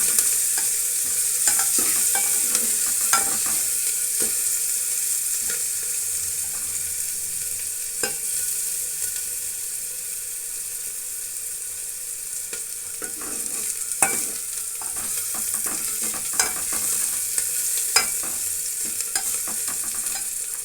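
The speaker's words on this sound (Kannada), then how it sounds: "ಬೆಳ್ಳುಳ್ಳಿ ಹಾಕಿದ್ದೀನಿ ಚೆನ್ನಾಗಿ ರೋಸ್ಟ್ ಆಗಲಿ" Garlic roasts in a hot pan for a Kannada lentil and greens curry, giving a steady close sizzle and fry with occasional clicks of stirring, no voices over it.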